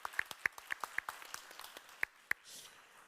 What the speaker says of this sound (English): Let me celebrate that with another round of applause.